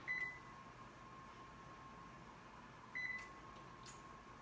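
A home oven being reset gives two short electronic beeps about three seconds apart, faint and clean over a low steady hum, with a tiny click near the end.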